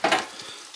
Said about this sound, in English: There it is, there, all sizzling away.